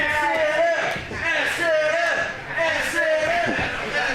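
Crowd at a live pro wrestling show chanting in a rhythmic, repeating cadence, loud and steady, swelling in regular waves.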